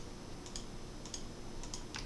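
Sparse key presses on a computer keyboard used to draw pixels on a uVGA display demo, faint, evenly spaced clicks over a steady background hum.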